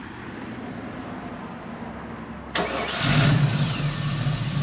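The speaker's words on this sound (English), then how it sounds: "Fires right up." A 1967 Camaro RS/SS engine with a mild cam cranks and fires about halfway through, then settles into a steady, rumbling idle. No one speaks.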